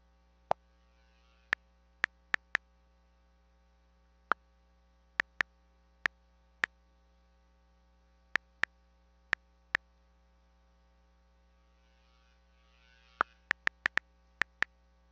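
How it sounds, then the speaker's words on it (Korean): Quick fingertip taps on an iPad screen enter numbers into an Excel sheet, a scattered series of sharp, close clicks with uneven gaps and a bursty flurry near the end, over a faint steady hum and with no talk. "숫자를 입력하고 있습니다"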